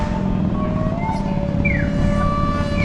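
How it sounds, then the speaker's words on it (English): Electronic chirps from a pedestrian crossing signal in Naha, Okinawa, Japan ring out a few times over the steady rumble of passing road traffic. "So the traffic signals make all sorts of sounds."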